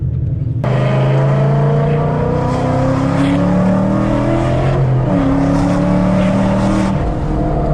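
A Ford Mustang running on E85 with bolt-on modifications roars loudly up close, its pitch climbing through gears in a sustained acceleration, with a brief shift midway.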